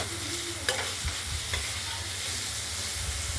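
Potatoes fry in a pan for a spicy paneer-fritter and potato curry made with ground spice paste, giving a steady close sizzle with a couple of sharp stirring clicks.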